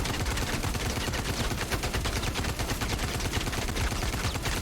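Rapid, sustained automatic gunfire from a VR shooter game, VR Citizen, rattles on loud and close for the whole stretch, a dense unbroken stream of shots with no talking.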